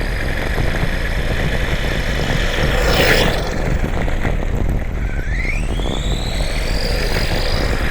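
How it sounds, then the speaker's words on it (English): Stock Imex Warrior RC buggy electric motor at full throttle, a loud steady high-pitched whine rising and falling in pitch as it winds out, with a brief rushing pass partway through. "That's full throttle. I can hear the motor winding out."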